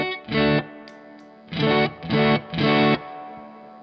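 Stratocaster electric guitar through a Blues Crab overdrive pedal, gain raised: four gritty, crunchy chord strums in uneven rhythm, each ringing briefly before cutting off, close and loud with no talking.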